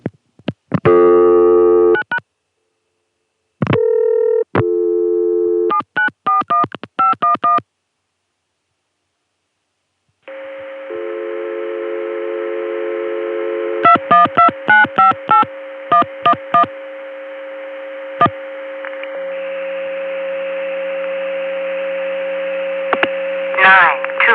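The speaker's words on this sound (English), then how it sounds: "794-1511 will give us an Atlanta CCSA dial tone via the PBX." Telephone tones pass through a PBX on a 1980-81 CCSA network: bursts of DTMF dialing and clicks, then a steady dial tone with a hum, more rapid touch-tone digits over it, and a low tone near the end.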